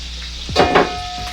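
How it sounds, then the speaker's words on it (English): Oxtail searing in a hot pan gives a steady close sizzle with a brief louder crackling burst in the middle, and no voices are heard. "We'll just let this cook while I'm searing off the oxtail"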